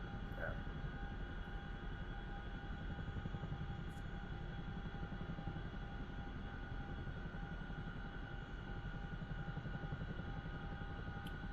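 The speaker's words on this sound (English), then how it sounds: "that's the Chinook or CH-47" Chinook CH-47 helicopter in the DCS World flight game, a steady low rotor drone and engine hum holding evenly throughout at moderate level, with no talk over it.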